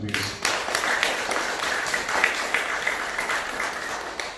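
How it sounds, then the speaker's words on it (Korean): Buddhist congregation at a Sunday dharma gathering clapping for two newlywed couples, a steady, moderately loud patter of many hands that lasts a few seconds. "우리 두 쌍의 신혼부부를 위해서 축하의 박수 한번 부탁드리겠습니다."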